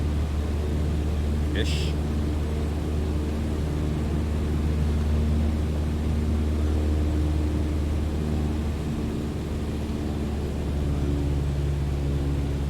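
A Cessna light aircraft engine in Microsoft Flight Simulator 2020 drones steadily as a low, constant rumble throughout, with a voice talking over it and a brief higher blip early on.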